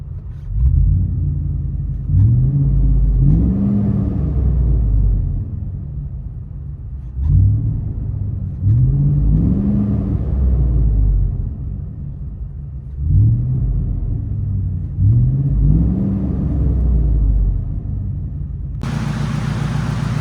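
Ford F250 with a 6.2L V8 and a Flowmaster Flow FX exhaust, muffler and resonator deleted, gives a deep rumbling idle with four or five throaty revs rising and falling in even cycles, loud and close, no talk.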